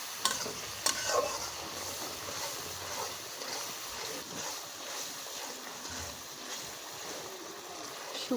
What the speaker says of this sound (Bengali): একটু আদা বাটা, একটু রসুন বাটা, একটু পেঁয়াজ, কাঁচামরিচ লাল করে আম্মু ভেজে নিচ্ছে